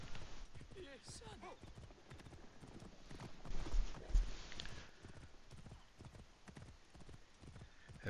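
Horse hooves clip-clop steadily at a trot in the video game Assassin's Creed Origins, moderately close and rhythmic, with game ambience and faint voices underneath.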